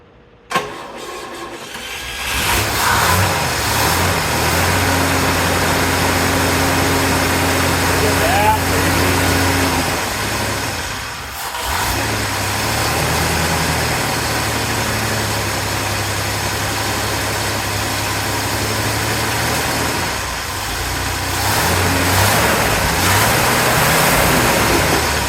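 A 1960 GMC truck engine under restoration runs steadily and loudly close by without idling, with a steady low drone and a brief dip partway through; faint voices can be heard beneath it.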